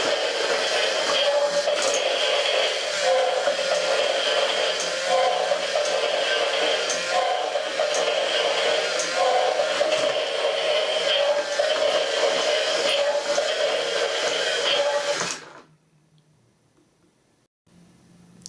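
A Star Wars AT-AT U-Command remote control toy turning 90 degrees, giving a steady, close whirring motor and gear noise with faint clicks that runs for about fifteen seconds, then stops abruptly into near silence.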